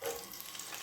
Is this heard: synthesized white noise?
no